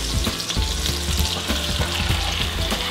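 Teriyaki salmon sizzles skin side down in a pan while being basted, a steady loud frying hiss with small clinks and scrapes recurring in an uneven rhythm throughout.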